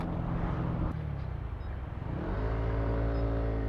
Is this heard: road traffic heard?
yes